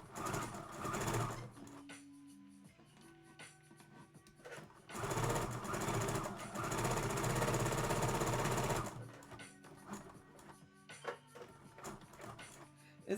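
A sewing machine stitches in uneven, jerky bursts rather than running smoothly, loud and close, with stretches of steady whirring broken by pauses and stuttering starts and a voice talking between them.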